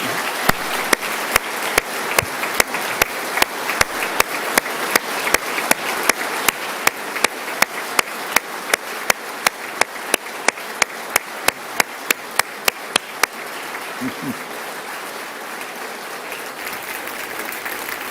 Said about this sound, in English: Will you please give her a round of applause?